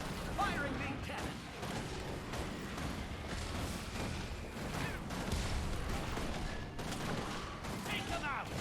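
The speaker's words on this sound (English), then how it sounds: "Firing main cannon!" Mech cannon fire in the video game Guild Wars 2, a dense continuous barrage of booming gunfire-like blasts layered with mechanical clatter, steady and loud throughout, with voices mixed in.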